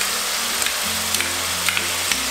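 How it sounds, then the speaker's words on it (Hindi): Ginger garlic paste fries with onions in a pan, giving a loud, continuous sizzle and crackle with a few sharp spatters and occasional stirring sounds, and no voices. "और साथ ही इसमें मैं डाल दूंगी अदरक लहसुन का पेस्ट।"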